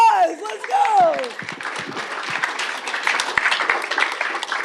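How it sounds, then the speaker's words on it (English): An audience bursts into sustained applause, dense clapping rising after a brief vocal cry at the start and continuing steadily to the end. "Everyone take a deep breath and give him a round of applause."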